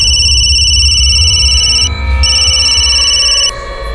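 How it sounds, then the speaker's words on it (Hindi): A telephone rings loudly and close by with an electronic tone in two steady bursts separated by a brief pause, over a low hum, with no talking. "तो उसके भाई गौतम को फोन किया मैंने।"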